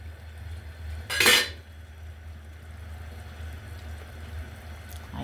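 A pot being set into place on a stove while something boils, one short clattering metal clank against a low, steady bubbling background.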